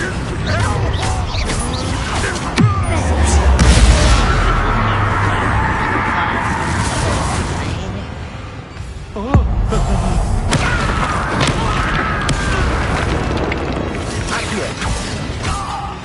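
Bombarda blasting spell explosion from Hogwarts Legacy gameplay, heard as loud crashing impacts and booms amid a dense, continuous wash of combat effects and music, with sharp bursts near the start and middle.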